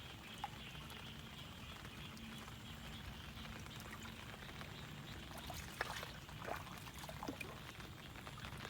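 Rain falling steadily outdoors, a faint continuous patter and trickle with a few scattered louder drops, no voices.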